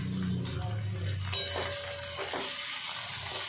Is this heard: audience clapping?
no